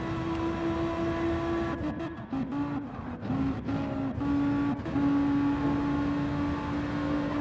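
Race cars in Gran Turismo 7 roaring along a track, steady engine drone with shifting pitch and brief dips as gears change, continuous and close, no talk.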